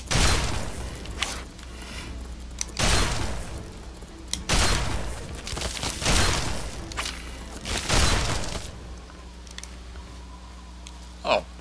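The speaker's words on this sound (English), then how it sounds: "You're shooting at the scorpion." Gunfire aimed at a scorpion in Fallout 3, several heavy booming shots fired at irregular intervals, each one loud and close with a short echoing tail and quieter gaps between them.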